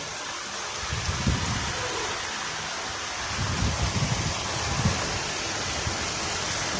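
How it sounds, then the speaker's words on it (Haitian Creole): Rain falls during a cyclone in Santiago, a steady broad hiss of heavy downpour with occasional low rumbling swells beneath it and no voices. "La pluie."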